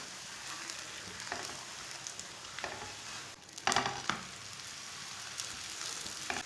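A methi paratha cooks on a pan with oil spooned around its sides, a quiet continuous sizzle broken by a few brief scraping or pressing sounds.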